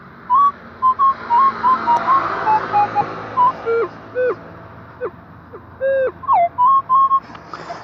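Metal detector swept over a buried target in a park, giving a run of short, clear electronic tones that bend up and down in pitch, repeating irregularly over steady background hiss.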